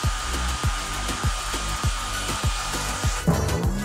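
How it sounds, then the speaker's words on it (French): A hair dryer blows steadily on a frozen pizza, with a regular series of rhythmic scraping or rubbing strokes over the hum and a shift in tone near the end. "Par contre, j'ai un sèche-cheveux."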